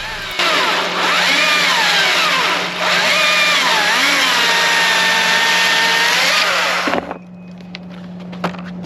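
A STIHL 220T battery chainsaw cuts wood with a loud, steady high-pitched whine whose pitch dips and wavers as the chain bogs down under load, then cuts off abruptly near the end, leaving a low electrical hum and a few clicks.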